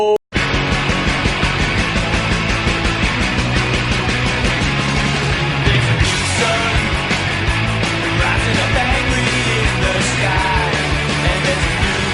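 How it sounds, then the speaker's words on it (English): Theme music for Red Dwarf USA bursts in loud and dense after a brief cutoff, a full band playing continuously with strong percussion and layered instruments, no talking over it. "Cue the theme music!"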